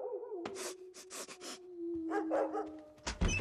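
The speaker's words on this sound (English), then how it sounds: "I'm playing this dog sound CD" Recorded dog barks played from a sound-effects CD, a quick series of sharp bursts then a second cluster, heard over a steady tonal hum in a quiet indoor room.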